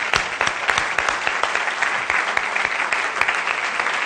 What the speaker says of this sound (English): Can we give them a round of applause here?